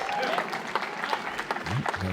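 A disc golf player at a pro tour championship final clapping his hands, brief scattered claps heard over continuous commentary and background crowd noise.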